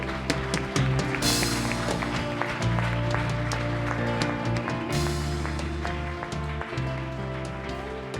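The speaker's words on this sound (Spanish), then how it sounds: "¿Podemos darle un aplauso al Señor?" Congregation applause at a church service, dense clapping spread through a sustained bed of organ or keyboard music, steady and fairly loud across the whole stretch with no talking.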